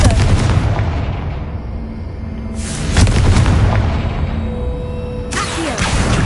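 Confringo spell blasts in the Hogwarts Legacy video game go off as loud, deep booms, three heavy impacts a few seconds apart, each trailing a rumbling decay.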